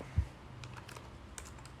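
A few soft keypresses on a computer keyboard, typed while checking Bomb Crypto game earnings: one louder low thump near the start, then light scattered clicks, faint against a quiet room.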